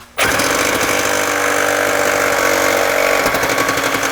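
A loud, harsh power saw grinds continuously through metal during repairs on a 2005 Honda Odyssey, starting abruptly and staying close and steady, with a rattling change near the end as a bolt comes out.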